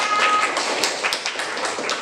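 A class group of teachers in a training session claps hands together, a brisk burst of close, sharp claps that fades out over a couple of seconds.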